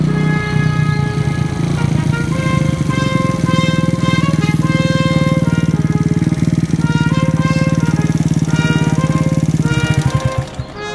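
An unbranded Chinese-made 50cc moped engine runs continuously at close range. It gives a loud, rattly buzz with steady harmonics, its pitch shifting slightly before it cuts near the end.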